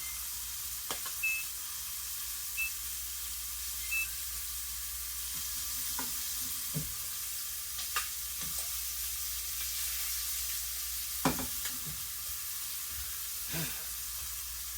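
Shrimp frying in a pan on low steady heat, a soft continuous sizzle with occasional clicks and scrapes of a utensil turning them, no talking.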